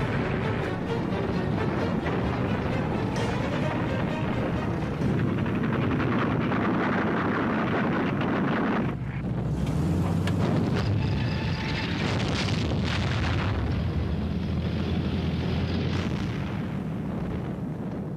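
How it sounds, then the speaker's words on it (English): A World War II armoured battle with tanks charging: a continuous, loud roar of heavy engines, rumbling and explosions, dense and unbroken throughout with no pauses. "On July the 12th, 1943, 900 tanks charged into the German flank."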